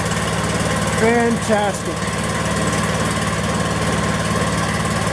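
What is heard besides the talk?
Power King DK2 stump grinder engine running after first pull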